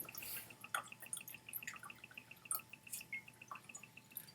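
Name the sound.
Antiquity Blue whisky pouring slowly from the bottle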